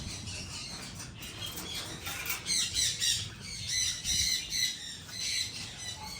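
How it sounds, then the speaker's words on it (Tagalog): African grey parrots give repeated harsh squawks in short bursts at moderate distance, with soft rustling and flapping in between and no talking. "And here's another pair of African gray parrot."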